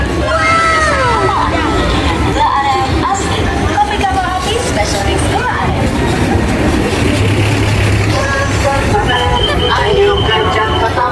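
A fairground train rolls past through a dense crowd at Jakarta Fair, a steady rumble with squealing, whistling tones under constant crowd chatter and babble, loud and close throughout.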